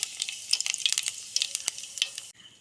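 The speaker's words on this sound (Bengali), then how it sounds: "তেলটা গরম হয়ে গেছে এর মধ্যে আমরা দিয়ে দেব গোটা জিরে" Whole cumin seeds hit hot oil with ghee and set off a bright, dense sizzle full of rapid crackles and pops, close and loud, which stops abruptly near the end.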